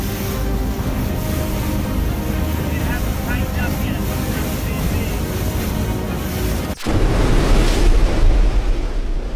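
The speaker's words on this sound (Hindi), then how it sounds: "यहां समंदर का पानी खुद को टॉर्नेडो में तब्दील करने की तैयारी में जुटा है।" Sea water churning and surging as a waterspout forms over the ocean, a loud continuous wash of surf and wind buffeting the microphone that briefly drops out, then returns even stronger.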